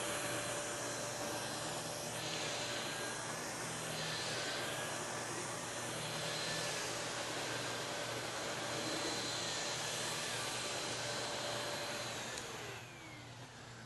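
A SEBO Felix Premium upright vacuum cleaner runs on carpet with a loud, steady motor roar and high whine, unbroken for over twelve seconds before the pitch drops as it powers down.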